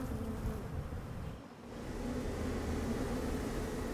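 Honeybees set out on heathland hum in a dense, continuous buzz that stays moderately close and steady, with no voices.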